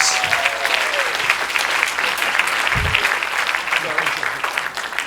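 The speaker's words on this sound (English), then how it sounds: "So a round of applause for all our dragons." An audience at a live children's media event gives a round of applause for a panel of judges, a loud, sustained crowd clapping that carries evenly throughout.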